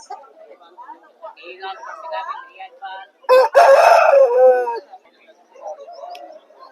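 A rooster at a poultry market in Vijayawada, India, lets out one loud, drawn-out crow nearby, with people talking and other birds chattering quietly before and after.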